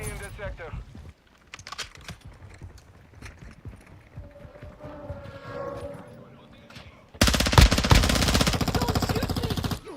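Gunfire in the Call of Duty Modern Warfare II video game, with scattered shots and game sounds at first, then a loud rapid burst of automatic fire near the end, firing steadily at close range.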